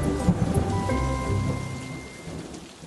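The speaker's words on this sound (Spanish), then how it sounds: "la lluvia, ya parará." Steady rain falls across an outdoor press conference in Yucatán, a dense, even patter with faint low rumbling underneath and no voices.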